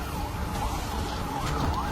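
Ambulance siren wailing in Gaza amid bombardment, a rising and falling tone over rumbling street noise, loud and continuous throughout.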